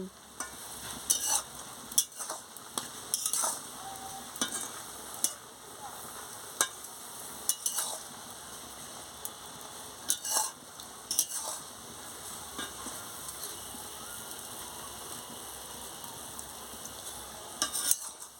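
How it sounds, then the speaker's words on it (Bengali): A soybean and gram-flour fritter curry gets stirred in a pan, with intermittent utensil scrapes and light clinks over a faint, steady simmering sizzle, quiet and close. "এবারে আমি নাড়িয়ে নিচ্ছি"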